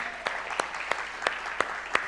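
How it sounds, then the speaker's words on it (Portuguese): An audience applauding a volunteer coming up on stage, sharp claps landing in an even rhythm about three times a second over a steady hiss of room noise. "uma salva de palmas"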